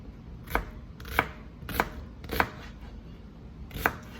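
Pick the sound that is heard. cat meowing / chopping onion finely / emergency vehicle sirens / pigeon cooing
chopping onion finely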